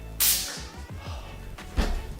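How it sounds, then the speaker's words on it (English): A taser flashlight stun gun gives a sharp crackling zap that bursts loudly at first, fades, then snaps again more briefly near the end, close and harsh over a faint noisy background. "And that's what that sound was. Stun guns."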